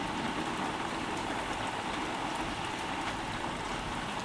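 Rain drums steadily on the roof of a parked camper van, a dense, even hiss of drops that stays constant and fairly close, with no voices.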